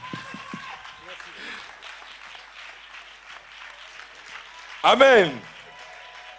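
Congregation applauding in a church, a soft steady patter of clapping running under a spoken voice, followed by a loud sung or shouted vocal burst near the end.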